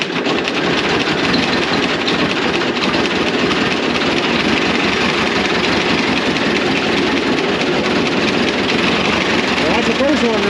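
An old tractor engine runs at a tractor show, its first start of the day with the choke partly out, giving a loud, steady, close-up mechanical rumble that holds without a break throughout.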